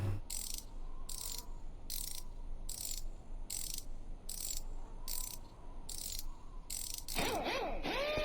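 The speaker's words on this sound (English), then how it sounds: "I have to put it on with the wrench" A wrench tightens a wheel in the Voices of the Void game, a quiet series of evenly spaced ratcheting clicks, about ten in a row, followed by a brief louder metallic burst at the end.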